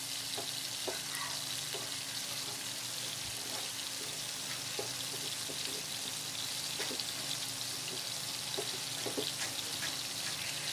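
A tomato and vegetable sauce frying in a pot: a continuous, even sizzle with faint scattered pops and light stirring throughout, moderately close, with no talking.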